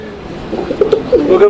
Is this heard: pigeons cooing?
yes